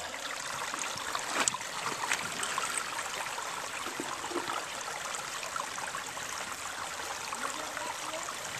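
Soft, continuous rush of a river flowing past a gold prospecting site, fairly distant and even, with a few faint knocks early on.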